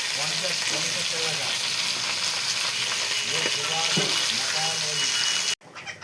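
Tangra fish sizzles loudly in hot oil in a home kitchen, with crackling spatter and occasional stirring scrapes, while a faint voice is heard under the frying.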